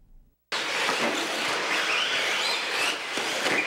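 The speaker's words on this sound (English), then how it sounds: "What is that flying across your screen making a loud buzzing sound? Those are radio-controlled race cars." After a short quiet start, a dense high-pitched motor buzz of radio-controlled race cars rushes in and stays loud, with small engines whining and fluctuating as they pass close by.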